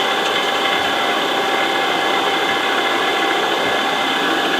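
A 5 HP (4 kW) three-phase motor runs at about 2000 RPM on a variable frequency drive, giving off a steady, loud electrical whine and hiss that holds constant throughout.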